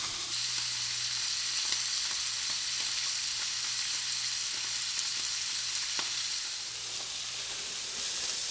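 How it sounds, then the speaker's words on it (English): A venison tenderloin sears in a hot pan with a steady, close, unbroken sizzle and hiss that holds at an even level from start to finish. "It's going to be a quick sear."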